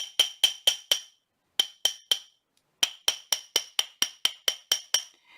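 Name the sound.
hammering a wire ring band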